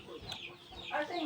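Chickens clucking on a trail between Hiquial and Masicampo, several short rising calls close by, with a louder cluster near the end over faint background noise.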